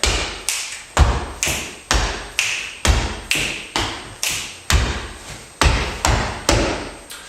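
A tango dancer's feet strike the floor in a steady rhythmic series of sharp, close thuds and taps, about two per second, with no talking.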